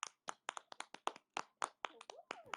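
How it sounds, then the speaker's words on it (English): Hands clap during an online meeting in a quick, irregular series of sharp, close claps, with a voice heard briefly near the end. "Words, not clapping."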